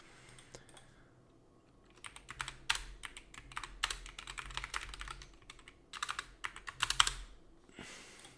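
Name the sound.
typing switch configuration on a computer keyboard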